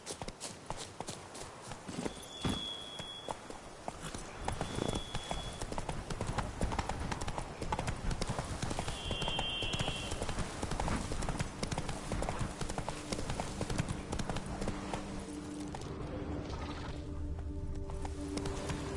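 Horse hooves clip-clopping on the ground in the video game The Witcher III: Wild Hunt, a brisk, steady rhythm of close hoofbeats running throughout, with a few faint chimes and a voice speaking near the end.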